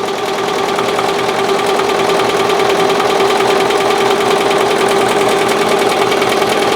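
BAi Vision embroidery machine sewing a zigzag stitch for 3D puff embroidery, a steady, loud, rapid mechanical chatter that runs unbroken and close throughout, with no talking.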